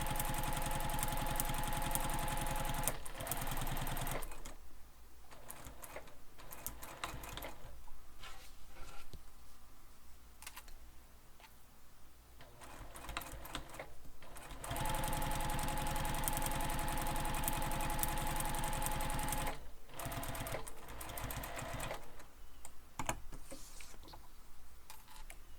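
Sewing machine top stitching the long edges of a fabric backpack piece, a steady mechanical run that pauses briefly and starts again, loud and close with no talk.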